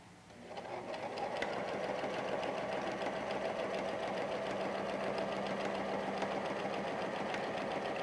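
A sewing machine stitching a long seam on a fabric face mask, a steady fast mechanical whir and needle clatter that starts up and runs evenly and close for several seconds.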